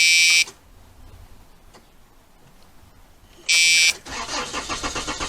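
An Isuzu diesel engine cranks after glow plugs are cycled: two loud, sharp bursts of starter whine separated by quiet, then a rough rattling chug as it tries to catch.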